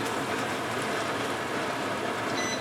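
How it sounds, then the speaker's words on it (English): A steady, even whooshing hum of a kitchen extractor fan, constant and moderately quiet, with no speech. "can turn off the extractor fan so you can hear me well."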